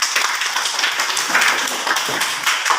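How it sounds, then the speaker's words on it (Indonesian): A classroom of pupils claps together after their teacher calls for applause, a dense, steady patter of many small hands filling a few seconds without pause. "Bagus, tepuk tangan"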